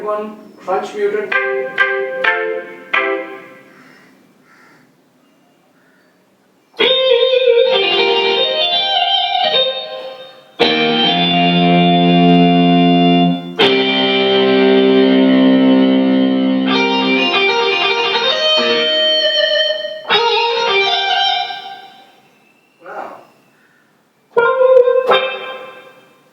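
A Casio CTX 9000IN keyboard plays crunchy, muted guitar-style chords: clipped stabs at first, then longer gritty sustained chords, ending with a few short hits after pauses.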